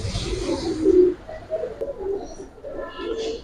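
Giribaz pigeons, a pair of running pigeons, coo in low throaty bursts that rise and fall across the stretch, close by, with a few faint higher chirps near the end and no talk.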